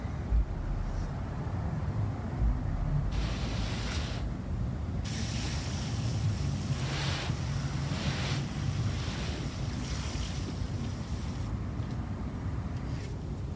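Water poured into a large planter holding a freshly planted old-fashioned jumbo lilac, making a steady, broadband wash that runs without pause at close range. Two brief shifts in texture cut in midway, and no one speaks.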